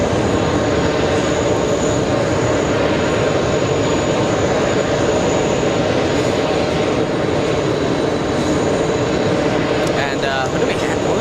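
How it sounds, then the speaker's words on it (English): A JetBlue airliner at JFK Airport gives off a loud, continuous jet engine roar with a dense rumble and a high whine, steady throughout and close by. "That's JetBlue 1661 and going to Bridgetown in Barbados."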